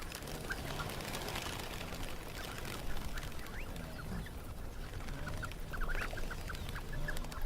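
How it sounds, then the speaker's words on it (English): A flock of sandgrouse calls at a waterhole in a dry riverbed used by zebra and wildebeest herds, giving scattered faint chirps and clucks over steady outdoor background noise. "Hundreds of sand grouse take advantage of the clean pools made by the zebra and wildebeest herds."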